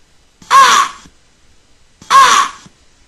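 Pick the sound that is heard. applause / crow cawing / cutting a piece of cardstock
crow cawing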